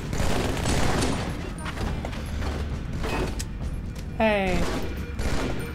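Rapid gunfire and mechanical clatter from a sci-fi shooter video game battle, dense and loud throughout, with a brief voice calling out in the middle.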